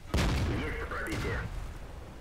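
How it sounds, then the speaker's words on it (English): A T-34-85 tank firing its cannon in a video game: two sharp, booming shots about a second apart, each followed by a lingering rumble, loud and close. "I'm just putting shots into the back of him"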